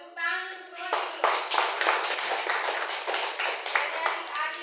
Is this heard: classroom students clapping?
yes